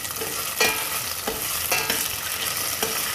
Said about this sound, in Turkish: Size göre ideal geldiği zaman mısırı şu şekilde karıştırabilirsiniz.